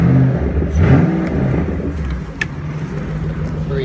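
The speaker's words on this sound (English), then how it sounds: "Get out and we'll listen to the exhaust pipes in the back." A 2008 Mustang Shelby GT500KR's exhaust revs up loudly with a throaty growl, then settles into a steady idle rumble close by.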